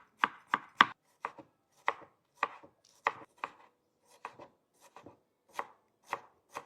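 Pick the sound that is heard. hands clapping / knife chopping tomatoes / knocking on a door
knife chopping tomatoes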